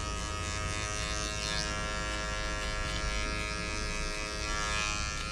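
An electric hair clipper buzzes steadily and close, running continuously while cutting an undercut haircut, with a constant hum and no talk.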